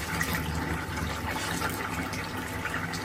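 Ghee being poured into coconut milk rice in a home kitchen, a soft continuous liquid pour with a steady watery rush and no talk.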